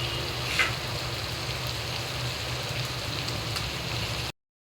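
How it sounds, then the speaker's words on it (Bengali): Koftas drop into a pan of frying spiced masala, giving a steady, close, rain-like sizzle with no talking, before the sound cuts off abruptly. "এখন আমি কোপ্তাগুলো সব দিয়ে দিচ্ছি।"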